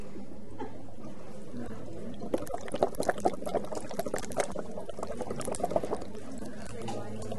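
Bubbling water from someone blowing steadily through a tube submerged at 5 cm water pressure, demonstrated in a speech-therapy lecture; a few seconds of irregular gurgling pops and bubbles rise over a low background hum.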